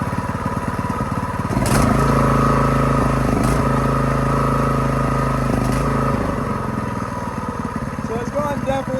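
Ironton 208cc small engine running rough, a loud close uneven chugging drone that holds steady throughout with slight dips and wavering in pitch.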